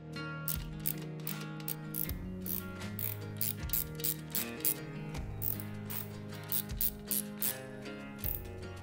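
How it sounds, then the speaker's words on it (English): Torque wrench ratcheting close up while rocker cover screws are tightened in sequence on an engine fitted with an M8 cam chest kit, with rapid repeated clicks in short bursts separated by brief resets, loud and alone. "So I'll torque these down in sequence."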